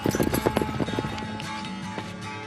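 Rhythmic clip-clop of a draft horse's hooves on the ground during a dressage show, quick and close at first, then fading under a steady musical background.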